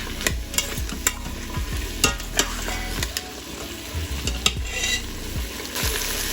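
Potatoes and carrots are stirred into Puerto Rican gandules soup in an Instant Pot with a spoon, which scrapes and knocks against the pot in a steady, close rhythm over a soft bubbling background.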